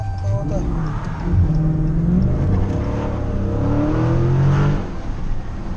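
A 2016 Dodge Challenger Scat Pack engine revs and pulls from inside the car, its tone climbing and easing over several seconds in a loud, rising drone, with voices talking over it.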